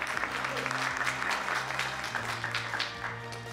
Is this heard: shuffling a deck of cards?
no